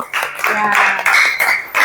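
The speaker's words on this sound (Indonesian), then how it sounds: "tepuk tangan untuk kita semuanya" A classroom group breaks into applause, a few loud rhythmic bursts of clapping over about two seconds, mixed with voices speaking.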